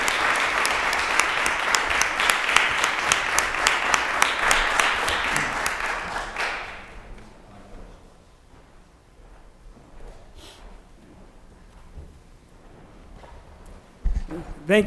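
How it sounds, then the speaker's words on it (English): Council chamber applause for the Lowell City Council at a November 2009 meeting, a dense, steady round of clapping for about six seconds that fades into room murmur and a few scattered claps, with a voice speaking briefly near the end. "You deserve a hearty round of applause for your work."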